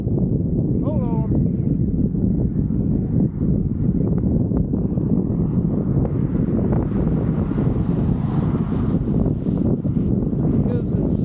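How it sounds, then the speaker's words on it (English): Strong wind buffets a low-mounted GoPro camera in a state park on a gusty day, a loud continuous rumbling roar across the whole stretch with no letup. "Because it's super windy today."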